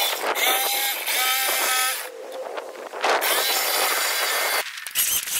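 A handsaw cuts through wood for a home-built sailing boat, rasping strokes rubbing back and forth close by and loud, with short pauses between passes.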